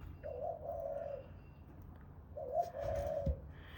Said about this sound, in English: now we've got the pigeons, the woot-woo birds